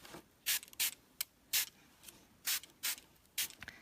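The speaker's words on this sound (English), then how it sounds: "then I'm going to spray some water to make it run" Short spray bursts of water misted onto a mixed-media craft piece coated with mica powder and soft gel medium, about eight quick hissy puffs in an irregular rhythm, close and fairly quiet with no voices.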